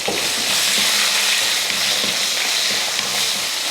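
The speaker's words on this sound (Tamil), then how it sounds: "வெண்டைக்காயும் இது போல் அந்த எண்ணெயில் வதக்குனதுக்கப்புறமா" Okra sautés in hot oil with curry leaves, dried red chillies and asafoetida for a buttermilk curry, giving a loud, steady, close sizzle with soft stirring scrapes throughout and no voices.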